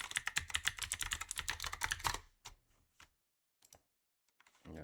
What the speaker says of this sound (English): Just going to quickly type in my email.